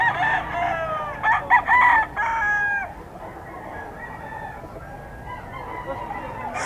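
A Gilmore Hennie gamefowl rooster crows loudly and close by in one long drawn-out call, followed by quieter clucking and fainter crowing over farm background noise.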